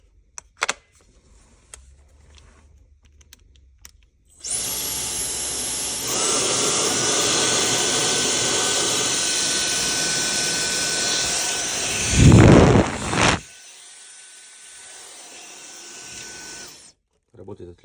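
A new Bork hair dryer with a magnetic nozzle runs as a steady, loud blowing whir for about nine seconds, shifting speed partway, then switching off with a brief clunk and a short quieter burst afterward.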